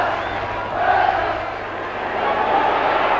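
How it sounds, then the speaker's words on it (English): A football stadium crowd cheers in a broad, continuous roar that swells and ebbs in waves, loud and close throughout. "Crowd's enthusiasm has come back in a big wave."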